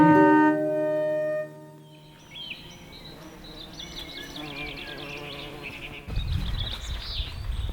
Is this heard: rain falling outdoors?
no